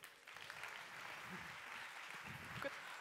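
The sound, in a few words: audience round of applause for speaker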